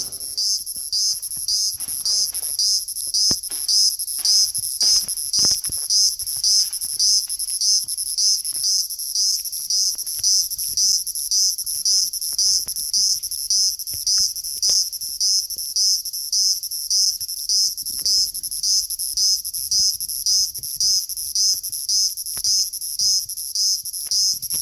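A small insect found near a tree in a hill forest calls loudly and steadily, a shrill pulsing buzz repeating rapidly and without pause from close by, with no talk over it.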